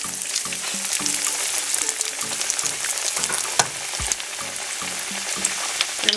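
Korean corn dog frying in a pan of hot oil at 320 degrees Fahrenheit, a steady close bubbling sizzle with crackles and light pops throughout, no voices.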